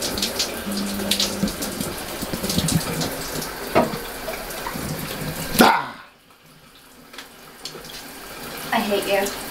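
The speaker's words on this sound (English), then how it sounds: "I took a shower and I let the hot water kind of hit my stomach around my stoma" Hot shower water runs steadily in a home bathroom, a continuous broadband hiss that briefly drops out partway through before resuming, with a few faint knocks and movements around it.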